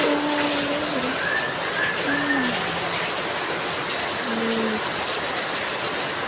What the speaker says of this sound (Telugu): అసలు వాన ఎలా పడుతుందో ఇప్పుడు చూపిస్తా